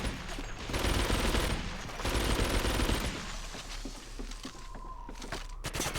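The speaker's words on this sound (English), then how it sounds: "I'm taking some hits, taking some fire here" Machine gun fire in the World War II shooter Medal of Honor European Assault rattles in loud, dense continuous bursts with overlapping shots and battle noise throughout.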